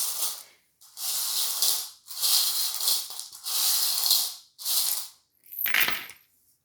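Small charms are shaken and rattled in bursts, giving about six loud jingling, clattering rattles separated by short silences, the last one sharper and brighter, with no talking.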